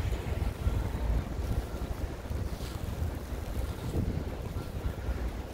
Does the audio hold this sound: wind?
yes